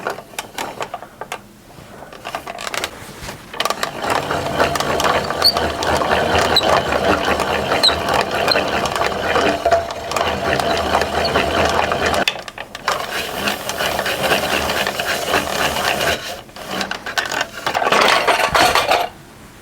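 A yarn ball winder cranked by hand while winding yarn salvaged from a thrifted sweater, giving a steady rattling, whirring mechanical clatter with short pauses between bursts of cranking; no talk.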